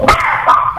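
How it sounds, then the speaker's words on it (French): A dog gives a short, close yip or bark in a podcast room, a brief loud burst followed by a softer whimpering tail within under a second. "Je pense que ton chien vient de me faire peur."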